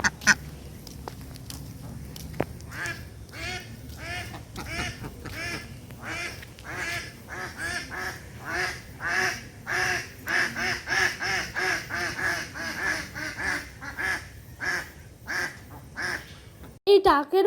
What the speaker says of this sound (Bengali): এই ডাকের মাধ্যমে হাঁসগুলো কত সুন্দরভাবে ওদের মধ্যে কথোপকথনগুলো বলছিল